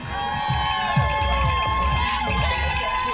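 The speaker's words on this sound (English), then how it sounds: "Cheers, screams, and cowbell were heard throughout the Strip District Sunday morning" Loud, close crowd of spectators cheering, shouting and whooping for marathon runners along a street in Pittsburgh's Strip District, with overlapping voices and high-pitched cries in a continuous din.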